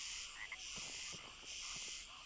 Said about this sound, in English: There's lots of frogs around here.